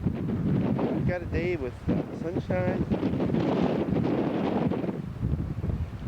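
Gusty wind buffets the microphone outdoors on a cloudy day in Scotland or Ireland, a steady rushing roar throughout, with a person talking over it.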